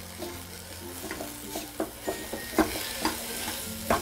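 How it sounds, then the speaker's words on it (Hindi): Potato stuffing seasoned with amchur powder is stirred in a pan, a spatula scraping and tapping in an uneven rhythm over a soft, steady sizzle, close and moderately loud. "अमचूर पाउडर हो वो डाल दें नहीं तो चाट मसाला भी यूज़ कर सकते हैं और इसे वापस चला लेते हैं"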